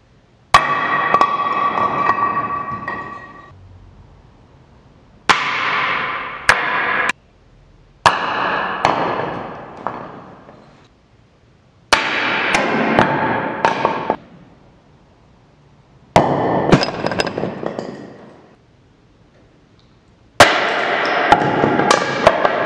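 A climbing hold is dropped repeatedly in a drop test, six separate sharp cracks of impact on the ground, each loud and close with a short ringing decay, spaced by a few seconds of quiet.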